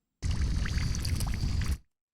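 Flowing stream water sample from the Massive X synth noise generator: a steady, close rushing wash with small trickling details, running about a second and a half before cutting off abruptly.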